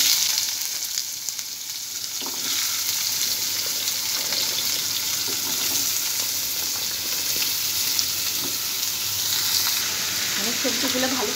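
Mixed vegetables fry in a pan for a spice-free curry with nigella seeds and green chilies, a steady loud sizzle with scattered crackles and occasional stirring scrapes, close and continuous, no talking.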